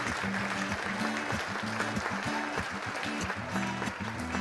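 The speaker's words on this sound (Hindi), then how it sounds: "काव्या जी, आपका स्वागत है। तालियां।" An audience at a poetry gathering applauds to welcome a young poet onstage, clapping running steadily beneath a loud rhythmic musical backing with repeating low tones.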